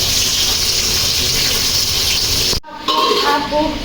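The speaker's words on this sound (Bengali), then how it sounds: "এখন চিকেন ভাজতেছে, তান্দুরি চিকেন।" Tandoori chicken, marinated the day before, fries in a pan with a steady loud sizzling hiss that runs unbroken, cuts out briefly near the end, then resumes.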